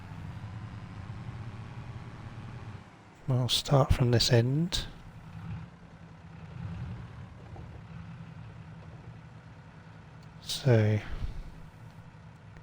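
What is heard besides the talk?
tractor engine in Farming Simulator 22 video game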